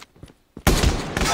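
Gunfire in the Call of Duty Mobile video game: a short loud burst of rapid shots breaking in after a few faint softer sounds.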